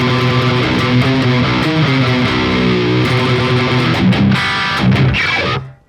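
Heavily distorted electric guitar plays the full opening riff of a song from start to finish, loud and up close, with steady chugging low notes, sliding phrases and accents, then a sudden cutoff at the end.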